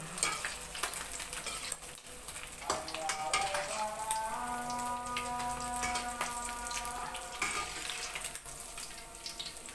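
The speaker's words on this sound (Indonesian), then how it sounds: "Tak goreng nih iwak iki lho" Fish caught from the Mahakam river sizzles in hot oil in a pan, a steady crackling fry with sharp pops and stirring clatter, close up, with a faint tonal hum partway through.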